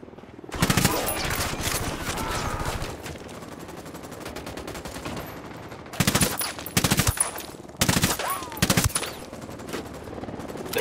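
Automatic gunfire rattles in loud, rapid bursts in the video game Ghost Recon Wildlands. Long volleys break off and come back in several clusters over a steady background.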